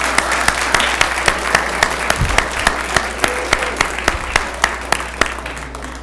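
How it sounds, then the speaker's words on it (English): Applause at a school board meeting honoring a middle school cheerleading team and coaches, a steady mass of clapping with distinct sharp individual claps ringing out close by, over a low steady room hum. "Let's give the middle school cheerleading team and coaches a big round of applause."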